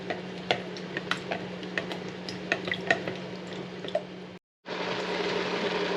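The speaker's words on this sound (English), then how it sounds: "I want to stir this completely." Spoon scraping and clinking against a pot while stirring a thick pepper preserve mixture, a steady run of irregular ticks and taps over a constant low hum, broken by a brief silence near the end.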